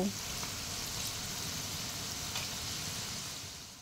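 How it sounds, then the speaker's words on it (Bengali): Steady hiss and crackle of okra pakoras frying in hot oil, continuous and fairly close, with faint bubbling throughout and no talking. "তেলটা গরম হয়ে গেলে ভেন্ডিগুলো আমি তেলের মধ্যে দিয়ে দিচ্ছি"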